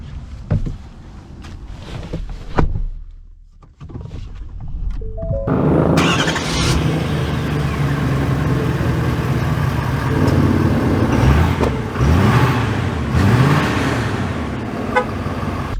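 A 2023 Ford F-350 Super Duty Lariat with the Power Stroke diesel cranks over and fires up after some quiet moments. Its engine rumble then carries steadily and fairly loud as the truck pulls away and drives.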